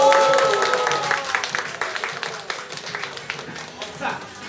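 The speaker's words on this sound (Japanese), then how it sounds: "決まったら拍手の方お願いします。" An audience at a flair bartending show in a bar claps after a trick, starting as a full burst and thinning into scattered, separate claps under some talk.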